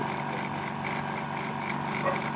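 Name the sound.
air compressor pump running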